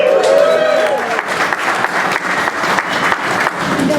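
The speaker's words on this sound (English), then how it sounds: "so please give yourself a round of applause for doing that." Crowd at an election-eve political vote rally breaks into applause, with loud, close clapping that starts over a raised voice and then continues steadily, with some cheering mixed in.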